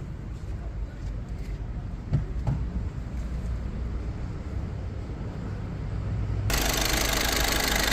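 A steady low Volkswagen engine idle rumbles on close by, getting noticeably louder and brighter near the end as it revs up.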